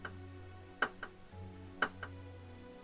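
A turn timer clock in the Age of Wonders strategy game ticks faintly in a steady tick-tock rhythm, with sharp clicks about once per second over a low background hum.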